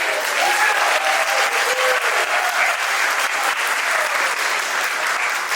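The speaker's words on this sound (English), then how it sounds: "just a big round of applause" A gala award show audience in an ornate hotel claps in a dense, even burst of applause that runs steadily throughout with no talk over it.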